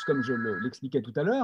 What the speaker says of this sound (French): Excusez-moi pour le téléphone qui sonne chez moi.